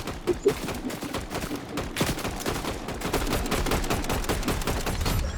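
Rapid gunfire in the video game Fortnite, sustained bursts of automatic shots that pile into a dense, continuous barrage, loud and close, with no talk over it.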